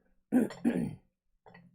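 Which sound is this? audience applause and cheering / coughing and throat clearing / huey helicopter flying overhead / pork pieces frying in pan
coughing and throat clearing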